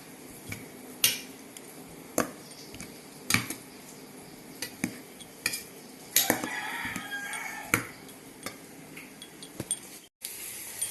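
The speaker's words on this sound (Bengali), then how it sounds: "এই হাতা দিয়ে চেষ্টা করছি মাখার।" A ladle mashes hot boiled potatoes, producing sharp metallic taps and clinks at irregular intervals, a couple of them clustered, against a quiet kitchen background.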